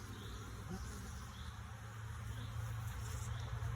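Honeybees buzzing around an open beehive, a faint continuous drone with occasional closer passes, steady and low in level throughout.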